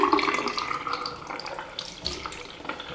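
Hot water is poured onto a pair of black football boots, making a steady, moderately quiet splashing and trickling that runs throughout.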